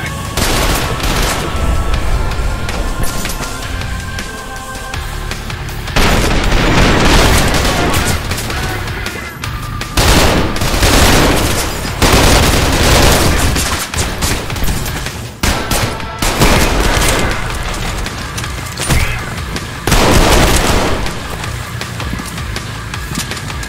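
Gunfire in Trepang 2 breaks out in loud, heavy bursts and volleys separated by quieter stretches, with blasts and booms close by.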